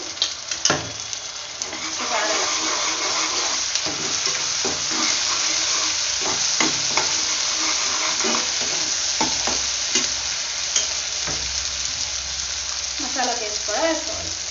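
Onions frying and sizzling in a pan while being stirred, with steady sizzle and scraping stir sounds for ginger-garlic paste addition in a home chicken fry biryani preparation; brief voices at the start and end.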